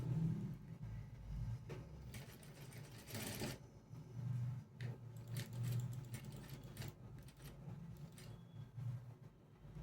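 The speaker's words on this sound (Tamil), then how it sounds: "கால் இன்ச்சில் தான் தைக்கிறேன்." A sewing machine stitches a quarter-inch seam on blouse fabric for a three-dart blouse: close, rhythmic mechanical whirring in uneven runs with short pauses and clicks between bursts.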